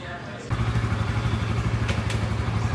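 A Honda Winner X ABS motorcycle engine starts and settles into a steady, loud idle close by, with a low even throb that continues without pause.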